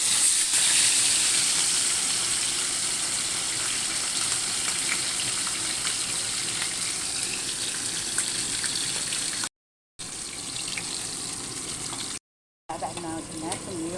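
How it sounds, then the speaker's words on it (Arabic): Fish frying in hot oil gives a steady, close sizzle and hiss that runs throughout, briefly cut out twice near the end. "باقي بعد ما حمى الزيت راح نخلي السمك"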